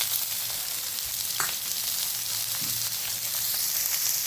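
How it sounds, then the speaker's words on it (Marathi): Onion frying in hot oil in a pan, a steady close sizzle with a couple of faint utensil taps, no voices. "त्यामध्ये आपण हा कांदा फ्राय करणार आहोत"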